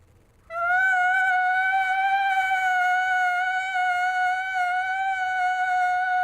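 Elk cow call blown on a latex diaphragm call with light tongue pressure: one long, clear, steady high-pitched whine, held for several seconds, close and loud in a quiet setting.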